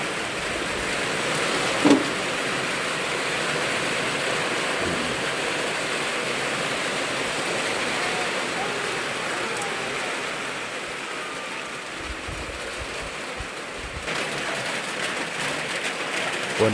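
Steady, dense rain pours down without pause on a coffee farm during the harvest, a constant wash of noise with a couple of brief knocks.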